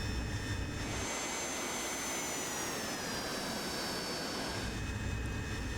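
An AV-8B Harrier jet in the DCS flight simulator roars steadily on its takeoff run, a loud, continuous engine whine with a rising and then settling high tone over broad rumbling thrust.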